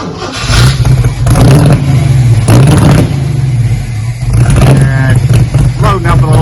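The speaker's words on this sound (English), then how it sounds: "Got a nice wide open Magnaflow there, just give it a nice mellow-tone sound" A 1984 Jeep CJ7 engine revs through a wide-open Magnaflow muffler, giving a loud, mellow rumble with several swelling throttle blips over a steady idle drone.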